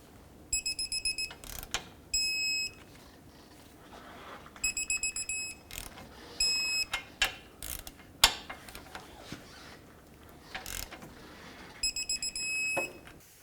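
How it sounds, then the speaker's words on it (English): A clicking torque wrench ratchets as ball joint bolts on a 2001-2007 Toyota Highlander are tightened to 94 foot-pounds. Sharp mechanical ratchet bursts repeat in several groups, close and fairly quiet with no voices. "Now let's torque them all. 94 foot-pounds for all 3 of these."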